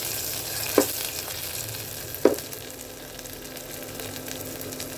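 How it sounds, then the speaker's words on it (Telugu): A chana tempering fries in a pan during Sankranti festival cooking, a steady hiss of sizzling oil with two sharper clinks of a utensil against the pan standing out, moderately close and without speech. "ఇప్పుడు చనా తాలింపు పెడుతున్నాం"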